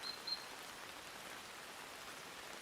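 Soft, faint rain falls steadily on forest leaves, a quiet continuous hiss of pattering drops with no voices.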